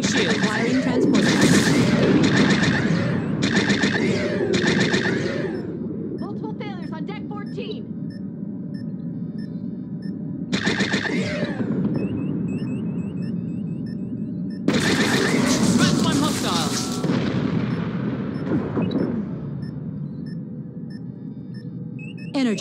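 Starship weapons fire in the video game Star Trek Bridge Crew, several loud bursts of blasts and beeping effects in separate clusters, with a voice speaking between them.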